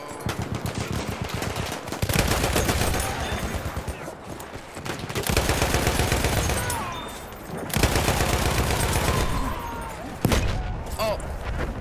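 Machine gun fire in the video game Battlefield 1, loud sustained automatic bursts broken by brief pauses, with a player talking over the shooting.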